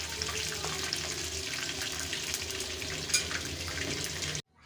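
Fish frying in oil in a pan, a steady moderate sizzle and bubbling hiss close by with occasional small pops, continuous until it stops suddenly; no speech.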